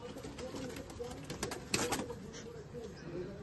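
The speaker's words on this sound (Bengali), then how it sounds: "সাদা চোখের পায়রাটা দেখাচ্ছি, দেখো তোমরা" White-eyed pigeons coo in a loft, soft repeated throaty calls mixed with light rustling and faint nearby voices.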